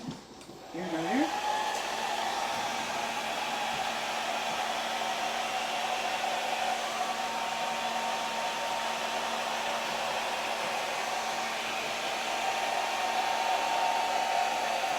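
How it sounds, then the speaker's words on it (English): A hair dryer blows steadily and loudly over an acrylic paint pour for the whole stretch, a constant whooshing roar with a faint whine, after a brief click as it starts. "And then I'm going to use my hair dryer."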